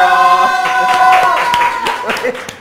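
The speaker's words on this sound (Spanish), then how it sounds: "Llegó el momento de darle el aplauso respectivo" A burst of scattered clapping rises under a lingering musical tone, with crowd noise and a voice mixed in.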